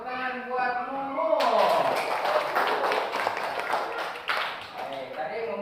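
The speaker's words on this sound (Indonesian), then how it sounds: "Baik, tepuk tangan buat Mumu." A classroom bursts into applause for a student, a short wave of clapping that swells and holds under a teacher's voice, which goes on talking over it.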